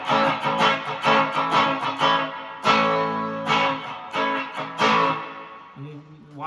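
Acoustic guitar strummed in quick rhythmic bursts, with choppy strokes muted by lifting the hand between ringing chords, close and moderately loud.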